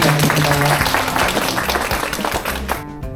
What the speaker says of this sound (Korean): 네, 박수로 부탁드립니다.